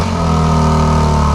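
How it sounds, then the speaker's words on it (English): The engine of a 2024 BMW X3 M Competition, brought to life by remote start, runs at a steady, loud, deep idle close by, with an even rumble and no other sounds. "You can also remote start this, so triple tap on that lock button."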